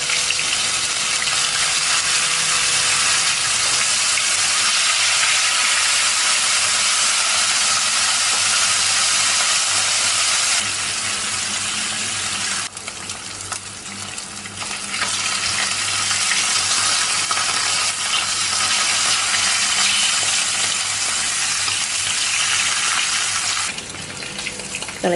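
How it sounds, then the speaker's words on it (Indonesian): Salted fish frying in hot oil in a wok, a loud continuous hiss and sizzle with dense crackling spatter that holds steady for the whole stretch, dipping briefly midway before surging again. "Kalau sudah panas, kita akan goreng ikan asinnya terlebih dahulu ya."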